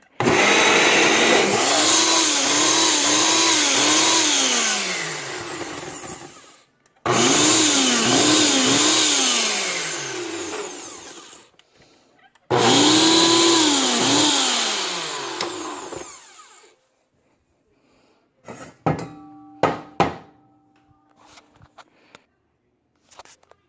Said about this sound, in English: So you keep blending and shaking.